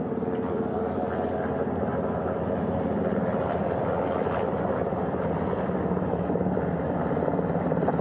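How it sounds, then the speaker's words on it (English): A helicopter hovers in to land on a ship's flight deck on the bow during the Artemis II crew recovery at sea, its rotor a loud, steady, continuous thrum with a dense rumble throughout. "The first helicopter coming in."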